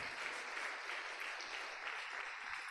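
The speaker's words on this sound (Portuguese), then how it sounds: "Dê uma salva de palmas para Jesus." A church congregation claps together in steady, continuous applause, sounding quiet and somewhat distant with no voices over it.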